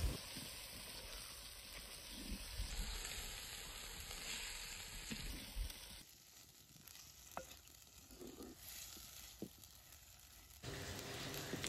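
Black masala paste fries in oil over a wood-fired chulha for an Agri-Koli squid masala, with a soft, continuous sizzle and light stirring scrapes at low volume and no voices.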